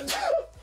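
A single quick sneeze inside a Mercedes Rapido M96 camper van, a sharp breathy burst that trails off, close to the microphone.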